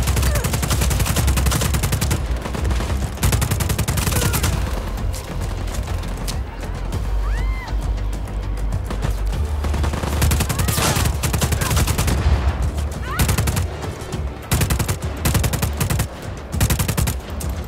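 Loud, rapid bursts of automatic gunfire in the video game Just Cause 4 crackle almost nonstop, with brief pauses and booming impacts mixed in, sounding like an intense battle.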